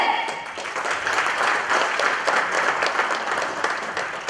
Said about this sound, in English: So let's begin this evening with a big round of applause for yourself.